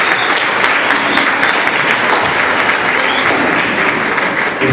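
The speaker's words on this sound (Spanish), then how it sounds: "Lo vamos a recibir con palmas" Loud, sustained applause from an audience at a Reiyukai experiences gathering, welcoming a speaker to the front, steady dense clapping throughout with no voices over it.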